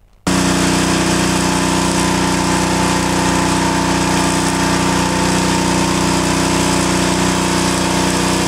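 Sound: firefighters' motor pumps pumping out floodwater

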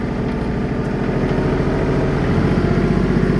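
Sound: three-cylinder compact tractor engine running

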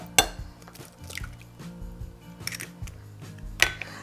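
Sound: cracking two eggs into a bowl

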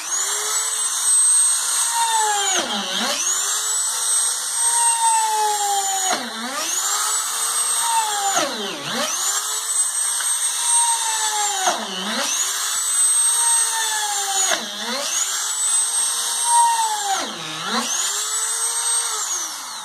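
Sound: power drill drilling into a wooden crate

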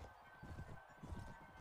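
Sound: horse hooves clip-clopping in video game Warband A New Dawn

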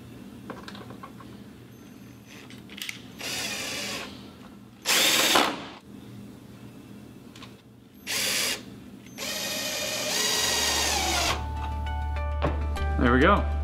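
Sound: power drill installing shade safety tension device

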